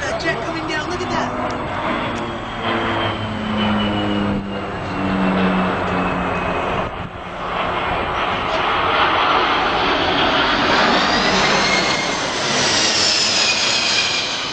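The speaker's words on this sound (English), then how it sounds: "Look at that jet coming down." A DC-10 jet flies low over the Lake Elsinore fire dropping fire retardant, its engine roar building into a loud, sustained rumble and whine overhead. People talk excitedly over it.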